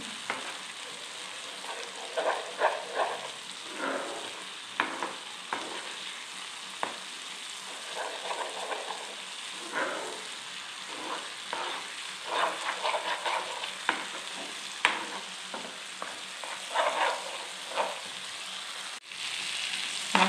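Spice paste for a prawn malai curry sautéing in a pan, a continuous close sizzle broken by steady stirring and scraping strokes throughout.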